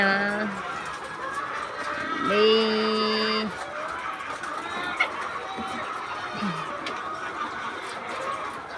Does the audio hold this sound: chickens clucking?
yes